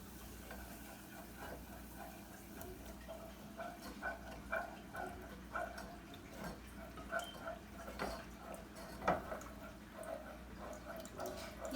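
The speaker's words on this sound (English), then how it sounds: "You are going to continue stirring until the sauce thickens." Milk being stirred into a cheesy sauce in a pot, a quiet ongoing scrape and slosh of a utensil moving through thickening liquid, soft and fairly even with occasional louder strokes.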